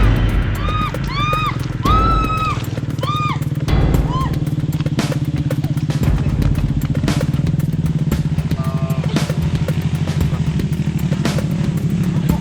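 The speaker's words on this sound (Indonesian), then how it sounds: "Baru tanjakan pertama, motor yang saya tumpangi sudah mengalami kesulitan" A motorcycle carrying a passenger labours up a steep, rain-soaked hillside track in Indonesia, its engine rising in strained pitch sweeps and then settling into a steady chugging drone, with clatter and voices mixed in.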